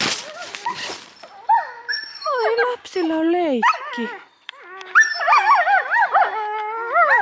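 Several dogs in a dog park whimper and howl in rising, wavering tones that overlap one another, with a person speaking briefly at the start.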